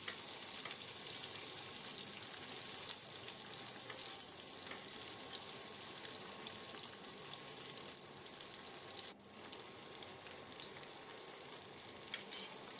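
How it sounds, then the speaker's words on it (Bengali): Onion frying in oil in a pan for an egg and soybean curry, a steady dense sizzle that crackles continuously at close range, with one brief louder pop partway through and no talking. "আর একটা পেঁয়াজ আমি ভাজতে দিয়ে দিলাম"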